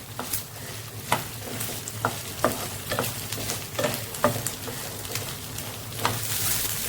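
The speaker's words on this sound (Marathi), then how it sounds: "भेंडी अशी फ्राय करून घ्यायची" Okra frying in a spoonful of oil over low to medium flame, a gentle sizzle punctuated by regular scraping stirs of a spatula against the pan, close and steady.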